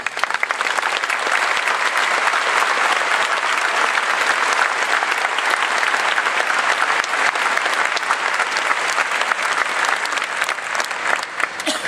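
Sustained, loud applause from a large audience at a high school graduation ceremony honours the East High teachers, a dense wash of clapping that holds steady throughout.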